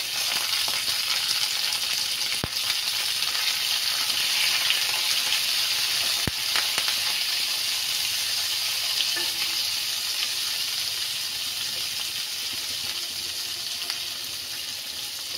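Curry leaves and spices frying in hot oil for Karnataka puliyogare tamarind paste, a steady dense sizzle running throughout with a couple of sharp clicks, close and fairly loud, no voices.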